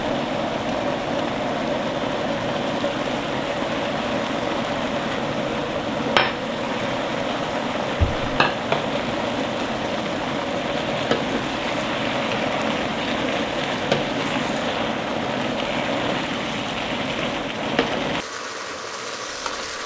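Mushrooms and onions stir-fried in a pan for a Korean eggplant dish, a continuous sizzle under a few knocks and scrapes of a utensil before the sound drops at the end.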